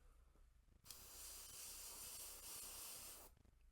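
Airbrush spraying paint down the middle of a Stormcast Eternals Vindictor miniature's blade, a steady close hiss that starts abruptly, holds for about two and a half seconds, then cuts off, with a quiet low hum around it.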